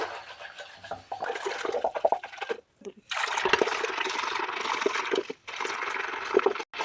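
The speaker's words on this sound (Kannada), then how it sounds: "ಈಗ ಇದನ್ನು ಮಜ್ಜಿಗೆ ಕಟ್ಟಿಯೋದನ್ನು ತೊಗೊಂಡು ಈ ಟೈಪ್ ಮಜ್ಜಿಗೆ ಕಟ್ಟಿಯೋಣ ಫಸ್ಟ್" Curd and water being churned into buttermilk with a hand churner, giving a close, sloshing, swishing liquid rhythm in bursts separated by short pauses.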